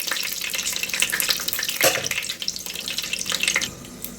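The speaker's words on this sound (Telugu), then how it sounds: "ఈ మసాలా కొద్దిగా వేగనిచ్చి ఆనియన్ వేయండి." Masala spices fry in hot oil in a pan for tomato rice, giving a continuous crackling sizzle with a few sharper pops and stirring noises, close and fairly loud, with no talking.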